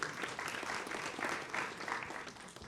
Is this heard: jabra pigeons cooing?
no